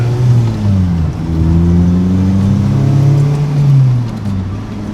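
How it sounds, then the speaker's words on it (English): A Honda Civic Type R clone with a K20R engine revs on a dyno, its loud close engine note rising and falling in pitch through a few sweeping climbs and dips. "Revs very freely."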